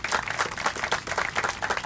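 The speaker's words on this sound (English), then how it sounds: "Let's give him a round of applause" Audience applause at a Nash Community College groundbreaking ceremony for manufacturing and cosmetology buildings, a brief burst of many hands clapping steadily at moderate loudness.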